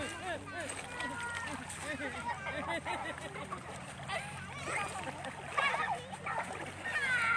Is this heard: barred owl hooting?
no